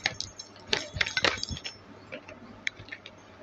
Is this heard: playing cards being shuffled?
yes